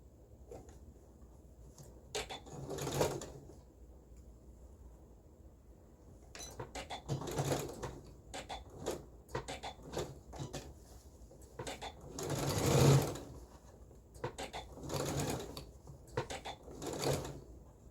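A sewing machine stitches a piece of a pants pattern (M5239) in short, close bursts of rapid whirring, separated by brief pauses, with a longer, louder run near the end.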